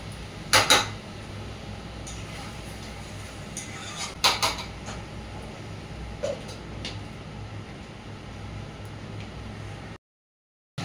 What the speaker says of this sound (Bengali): এটাকে আরো কষাবো এখন আস্তে আস্তে। ভালো করে কষাবো মাংসটা।